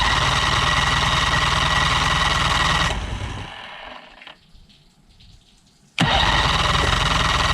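The motor on a 1998 Tracker Super Guide V-14 side-console boat is cranked. A loud, steady running roar cuts out, a quieter stretch follows, and then the loud roar abruptly returns.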